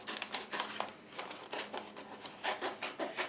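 A knife cuts into a breakfast food item, making repeated soft rasping, sawing strokes in uneven bursts, close and fairly quiet with no talking.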